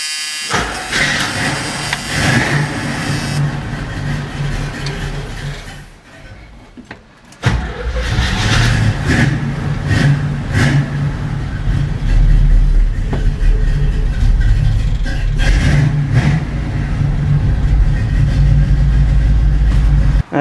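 A Chevrolet Nova's engine cranks and fires, drops off briefly, then catches again and settles into a loud, steady, rumbling idle close by.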